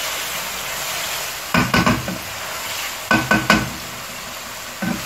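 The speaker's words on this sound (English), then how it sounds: "I'm just going to stir it one more time." Spicy fried pepper sauce sizzles steadily in a pan while a spoon stirs it, adding two short clusters of scraping, clacking strokes over the constant frying hiss.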